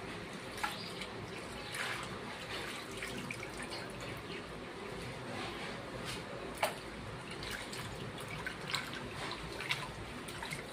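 Radish greens are washed in water, with a steady running and splashing wash, small drips and occasional knocks, moderately close and unbroken, with no talking.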